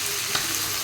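Chicken sizzling as it is stir-fried in a pan for afritada, a dense, steady hiss of frying close up with a faint stir scrape, no talking.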